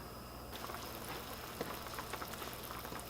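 Sweet and spicy Thai meatball sauce bubbles gently at a low boil in a pot, giving a soft, steady fizzing and popping with no voices.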